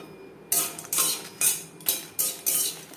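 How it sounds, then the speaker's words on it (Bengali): Dry red chillies roasted in an empty pan with a metal utensil, sharp clinks and scrapes striking in a regular rhythm roughly every half second, close and clear with no talking. "শুকনো খোলায় দু তিন মিনিট লঙ্কা হালকা করে ভেজে নেব"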